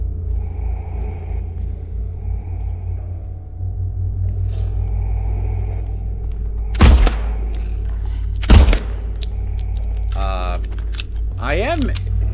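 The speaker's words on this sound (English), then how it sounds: "I am shooting at him, right?" Two loud, sharp gunshots fired at an enemy in the Silent Hill 2 Remake video game, well apart from each other, over a steady low rumbling ambience.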